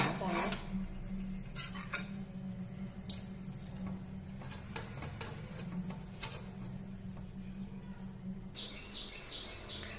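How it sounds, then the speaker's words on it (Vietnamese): Steamed tilapia with lemongrass is lifted out and laid onto a plate, with scattered light clinks and scrapes of utensils against dishes, fairly quiet and close, and faint bird chirps in the background. "mình sẽ lấy cá ra đĩa là có thể thưởng thức ạ"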